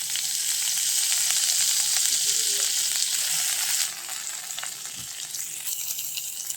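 Chopped vegetables and red lentils fry in hot oil, a steady, close, hissing sizzle that runs continuously and eases to a slightly softer level partway through, with a faint stirring knock.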